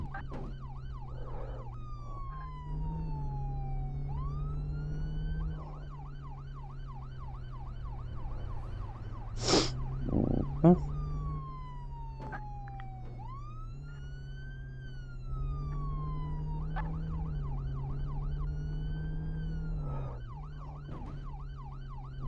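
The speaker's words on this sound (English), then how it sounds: "where this siren is going now. I use that as just the running siren." An emergency vehicle siren in the video game Flashing Lights wails in repeated rising and falling cycles over a low engine hum, with a couple of brief sharp bursts midway, moderately loud and without speech.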